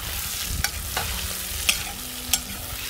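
Onion frying in oil in a kazan over a campfire, a steady close sizzle with a few sharp scraping stirs spaced through it, no talk.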